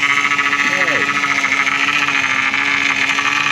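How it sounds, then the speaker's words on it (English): A power steering pump on a 2007 Chevrolet Monte Carlo SS with a 5.3 engine whines in a steady, loud, sustained tone over the running engine, with brief speech near the start. "Quiet down, power steering pump."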